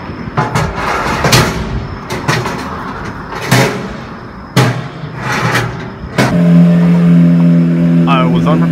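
A Lamborghini Centenario is pulled out of a showroom toward a car park in Japan, with loud thuds and clatter, then its engine fires and settles into a steady, loud, close idle hum.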